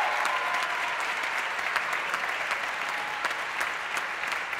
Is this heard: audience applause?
yes